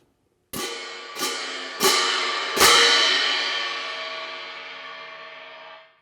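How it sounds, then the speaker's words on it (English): Crash cymbals, big metal discs held by leather straps, clashed together four times in a slowly spaced rhythm, each bright splashy crash ringing on and overlapping into a long shimmering decay, loud and close with no voices. "These are the crash cymbals."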